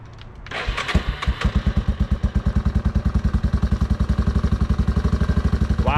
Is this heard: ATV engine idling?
yes